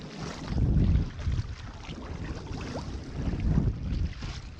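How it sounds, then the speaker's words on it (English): Wind rushes past a sea kayak on the open coast south of Durras, a steady buffeting roar with gusty swells and low rumbling microphone noise, no speech. "This wind's a bit more than predicted"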